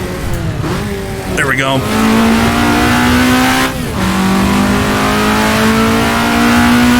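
Alfa Romeo GTA racing through Italian streets in Assetto Corsa, its engine revving hard and climbing through the gears with a steady loud drone, while someone talks briefly over it.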